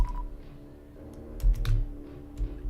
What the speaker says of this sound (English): Also hope the clicking of the keyboard isn't too annoying.